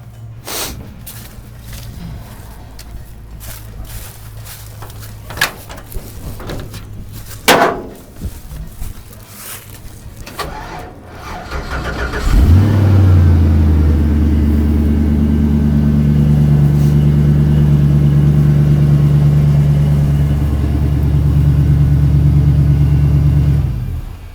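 A 1954 International Metro truck fitted with an LS engine cranks briefly, then catches and settles into a loud, steady low rumble, close by, with a rise in revs partway through and a few knocks and clanks before it starts.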